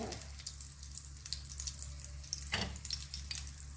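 Butter melting in a pan gives a faint, steady sizzle with light crackles and a few sharper pops, heard close with no talk over it.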